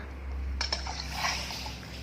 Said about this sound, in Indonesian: Ini suara batu dimasukkan ke air.